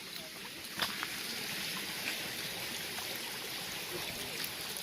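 A river flows steadily at a river crossing on the Appalachian Trail, a constant close rush and babble of water that fills the clip with no breaks.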